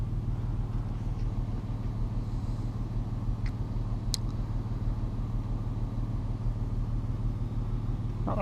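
A VW Golf Mk5 R32 engine idles evenly while warming up, a steady low rumble held close and constant with no revving, a few faint clicks above it.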